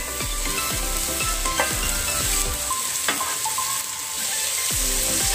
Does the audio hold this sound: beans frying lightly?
yes